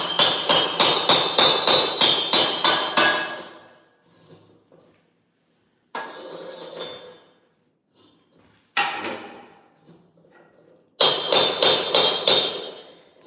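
Rapid bursts of hammering on 0.080-inch-thick 3140 steel plate while making medieval armour, several quick ringing strikes per second, in three clusters separated by pauses and isolated clanks; loud and close.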